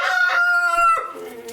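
A rooster crows once, close and loud, in a single drawn-out call that fades at the end, at a farm.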